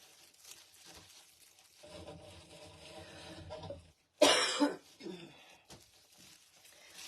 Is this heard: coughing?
yes